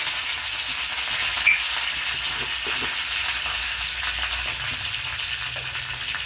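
Curry leaves hiss and sizzle in hot oil in a chicken curry pan, a steady loud frying crackle running throughout with no talk.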